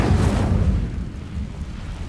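The Incendio fire spell is cast in the video game Hogwarts Legacy, a loud roaring whoosh of flame with a deep rumbling burst that fades over about two seconds.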